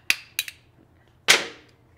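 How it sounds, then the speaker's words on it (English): Sharp metallic bangs from knocking the connecting rod out of a failed Stihl FS 91R trimmer engine: three quick strikes close together, then a pause and one louder blow that rings out briefly, close up with no talk. "I'm going to try to bang this rod out."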